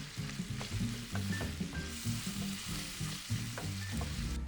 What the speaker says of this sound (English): We're just gonna slightly brown our sausage, so we're not cooking this fully, it's already fully smoked.